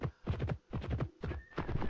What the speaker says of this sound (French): Allez, le cheval, allez!